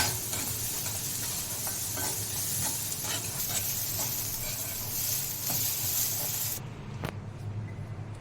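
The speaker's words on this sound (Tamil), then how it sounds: "அதனுடன் 2 ஸ்பூன் அளவு துருவி வைத்த தேங்காயையும் சேர்த்து வதக்கி" Grated coconut sautéing in a pan for a village-style chicken curry, a continuous sizzle with scraping stir strokes from a spoon, close and steady, easing off near the end.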